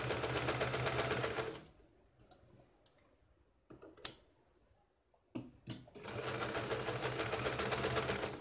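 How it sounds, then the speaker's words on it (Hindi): A sewing machine stitches fabric for baby pants, running in two steady bursts at the start and end with a quiet stretch of scattered clicks and fabric handling between. "अब यहाँ पे हम इसको सिलाई लगाते हैं।"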